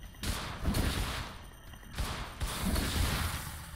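Video-game gunfire in In Sound Mind, several bursts of shots arriving in clusters at close range, loud and harsh, with no talking.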